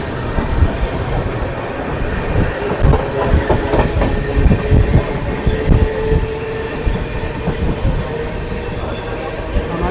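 The Amritsar–Bikaner Superfast Express (14720) runs at speed, a loud continuous rumble with rhythmic clickety-clack of wheels over rail joints heard from inside the carriage.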